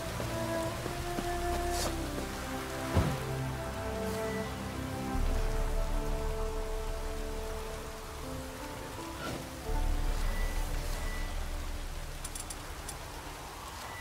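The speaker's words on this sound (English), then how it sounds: "Looks like rain." Steady rain pours down in the open world of The Witcher 3: Wild Hunt, a dense, even hiss of drops hitting the ground that runs throughout, with a faint low rumble under it and no talking.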